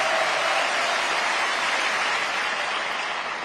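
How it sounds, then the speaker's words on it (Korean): A church congregation applauds during a Sunday morning worship service, a steady, dense wash of many hands clapping together, loud and close, with no talking over it. "박수하세요."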